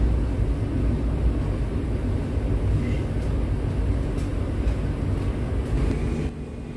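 Steady low rumble inside the Kaligung passenger train hauled by a vintage locomotive, continuous rolling noise with faint clicks over the rails and no voices.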